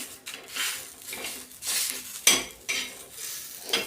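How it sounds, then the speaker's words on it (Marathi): A split onion is roasted in a pan on a gas stove, with sizzling and repeated scraping and stirring that come in uneven bursts close by, and no talk. "कांदा आपल्याला तो फोडून भाजायचा आहे"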